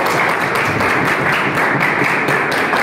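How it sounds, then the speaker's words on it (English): An audience at a school science quiz competition gives a dense, steady round of clapping for a team, filling the room evenly from start to finish with no voices. "Please give them a clap."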